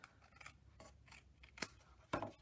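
Scissors cut through card paper in a quiet craft setting, with a few soft rasping strokes followed by two sharper, distinct snips close by.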